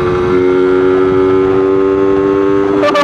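An RXT 135 Classic two-stroke motorcycle riding, with a loud, buzzy, high-revving engine whine that holds steady, then a brief burst of noise right at the end; no talking.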